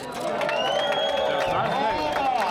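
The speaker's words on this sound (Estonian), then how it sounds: "nüüd teeme aplausi ja karjume kaasa" Before the start of the Valga Valka City Run 2025, a street crowd cheers and shouts with scattered clapping, a loud continuous roar of voices sustained throughout.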